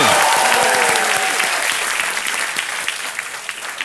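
Studio audience applause at the Kaun Banega Crorepati quiz show, loud at first and then gradually thinning and fading as the clapping dies down.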